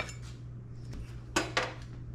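A spoon scoops hamburger cornbread casserole from a pan, making a couple of sharp metallic scrapes and clinks close by over a steady low hum.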